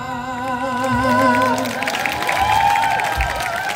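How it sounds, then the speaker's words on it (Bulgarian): Applause and cheering rise from a concert audience at a show, filling the hall as sustained sung and instrumental tones ring over the crowd noise. "Аплодисменти!"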